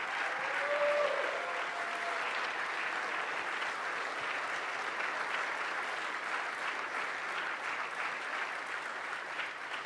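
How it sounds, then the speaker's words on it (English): Sustained applause for the President of the United States, a steady dense wash of many hands clapping at moderate distance, slightly louder at the start and then holding evenly without talk. "Please, a round of applause for the President of the United States of America."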